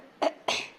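An elderly woman coughs twice, two short, moderately loud bursts about a quarter second apart in a quiet room.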